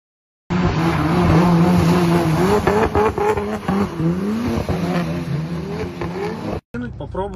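A car accelerates hard and drifts, its engine revving loudly and rising and falling under sustained tire squeal, with a voice talking over it before the sound cuts off abruptly near the end.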